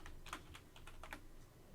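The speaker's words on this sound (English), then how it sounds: "I'm just going to type in my name." Close, quiet keystrokes on a computer keyboard tap out a name in short uneven bursts of clicks, with brief pauses between them and no voice.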